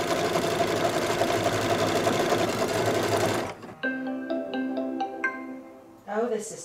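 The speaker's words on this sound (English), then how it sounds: "So now it's stitching out the 8x10 design" An embroidery machine stitches out an 8x10 quilting design with a steady, dense mechanical whir for about three seconds, then stops, followed by a series of electronic beeps from the machine.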